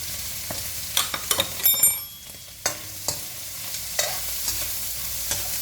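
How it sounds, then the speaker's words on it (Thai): Noodles with dried shrimp, fresh pork and pork sausage stir-fried in a pan, with a utensil scraping and tossing in irregular strokes over a soft, steady sizzle, close and fairly loud. "เวลาเราใส่กุ้งแห้งเนี่ยผัดเข้าไปอ่ะ"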